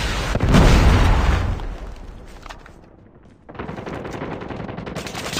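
Video game combat with dense gunfire and explosions, a heavy booming blast at the start giving way to continuous rattling shots that fade briefly and then pick back up, loud and close.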